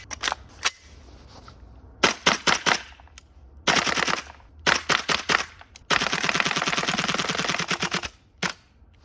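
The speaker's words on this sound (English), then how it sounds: "TM-MWS Green Gas Mag." A Tokyo Marui MWS airsoft rifle fires on a green gas magazine, loud close bursts of rapid sharp cracks, from short groups to one long sustained string, separated by brief silences.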